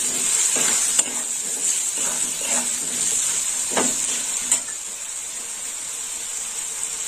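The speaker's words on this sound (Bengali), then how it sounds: "আলুটা একটু ভালো করে ভাজা হবে।" Potato pieces seasoned with salt and turmeric sizzle in hot oil in a pan, a steady close crackling hiss broken by a few stirring scrapes and clinks, with no talk.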